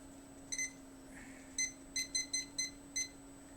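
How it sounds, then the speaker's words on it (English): A kitchen-style timer being set gives a run of short, high electronic beeps, seven in all, scattered unevenly with a quick cluster in the middle, close and clear over a low steady hum. "Let me put my timer on."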